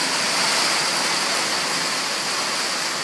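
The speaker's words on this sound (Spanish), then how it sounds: "Graba cómo sacan el agua del techo." Steady, dense rush of rainwater pouring off a roof during a rain and hail storm, continuous and close with no pauses.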